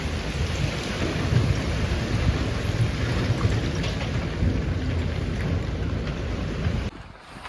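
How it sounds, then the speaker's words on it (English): Steady heavy rain falling outdoors in a yard, a dense continuous hiss and patter with rough wind buffeting on the microphone, dropping away abruptly at the very end. "Just raining now, steady here the rain"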